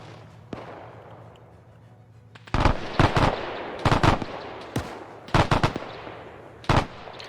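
Gunfire in the Arma 3 video game: single sharp shots and short automatic bursts crack loudly after a quiet opening, with gaps between volleys.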